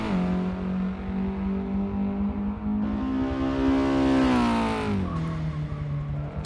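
A car drifts in the racing game Forza Motorsport 6, its engine droning loudly and rising in pitch as it revs, then dropping sharply before settling, with a continuous roar throughout.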